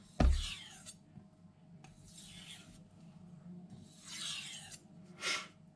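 A knife is sharpened with alternating strokes on a slurried Naniwa Aotoshi whetstone: a sharp knock opens, then four evenly spaced, close rasping strokes sound alone without talk.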